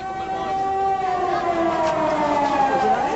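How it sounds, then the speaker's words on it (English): Air raid sirens wail over Baghdad during Operation Desert Storm in 1991, a sustained rising and falling tone from a distance, with overlapping siren pitches and no talk over them. "When the sirens sound,"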